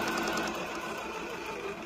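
A sewing machine stitches a seam with a steady, continuous whirring hum that runs without a break.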